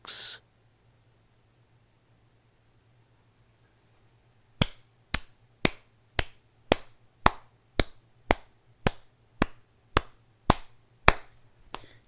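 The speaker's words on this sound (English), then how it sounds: "It gets the slow clap because it's still cheesy" A slow clap: a single pair of hands striking about fourteen evenly spaced, fairly loud claps after several seconds of near silence, the pace holding steady throughout.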